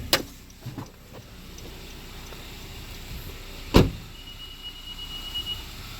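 On a 2014 Honda Civic Si, the hood release gives a sharp single clunk midway through, preceded by a couple of softer clicks and followed by a faint high beeping tone, in a quiet setting.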